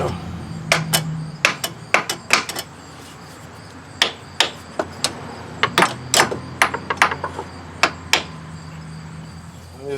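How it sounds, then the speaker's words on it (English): A hammer taps a part onto the crankshaft of a 1999 Grand Am 2.4L engine, sharp metallic strikes in irregular clusters of single and double hits, close and distinct over a quiet background. "I'm just going to keep tapping on that until it's sent home"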